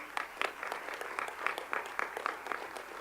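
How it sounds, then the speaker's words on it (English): Audience applause at a Board of Education meeting, moderately distant and fairly light, with distinct individual claps standing out in an uneven rhythm. "please, big round of applause"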